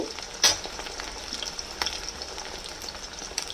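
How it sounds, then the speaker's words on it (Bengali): Potatoes cut into long strips fry in a pan, giving a steady close sizzle with sharper spattering bursts near the start and middle, with no voices. "আগে আলুটাকে একটু ভাজা করে নিই"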